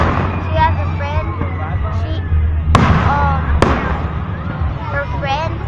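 Fireworks going off outdoors, with two sharp loud bangs standing out over crackling and a crowd of people talking and exclaiming.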